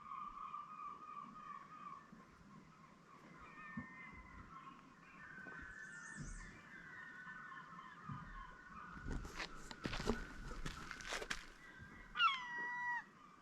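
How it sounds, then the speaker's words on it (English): Gulls call excitedly at an Upper Peninsula of Michigan lakeshore campsite, a run of sharp, overlapping cries growing denser and louder midway, with scattered squawks before and after over faint background noise. "You hear the seagulls going crazy."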